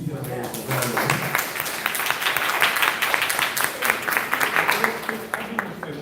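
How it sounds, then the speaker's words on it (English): A public meeting audience applauding two young ladies, clapping building quickly from a quiet start into a steady round of applause with voices faintly underneath. "Ladies and gentlemen, give these 2 young ladies a round of applause."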